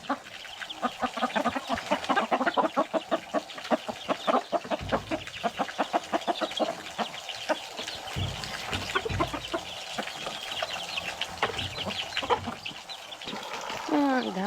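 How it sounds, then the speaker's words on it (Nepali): Village chickens cluck in rapid, agitated bursts, startled by a dog, a dense run of close, loud cackling calls that settles toward the end with a rising squawk. "अनि कुखुराहरू चाहिँ तर्सिँदै त गर्छ"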